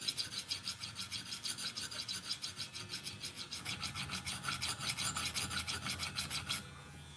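An M4 steel Spyderco Native Chief knife is sharpened with rhythmic rasping strokes, a steady back-and-forth scrape repeating about twice a second, close and fairly quiet, with no voices.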